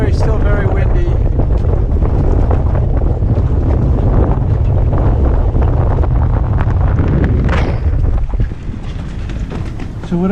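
Loud, steady gale-force wind roars across the microphone on a sailboat at sea near Horta in the Azores, with rushing water beneath; the gusting stays heavy throughout and eases slightly near the end.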